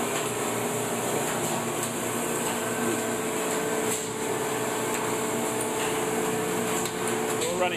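Several vinyl record presses run together in a pressing plant, making a loud, continuous mechanical din of whirring and hissing with faint clanks, close by.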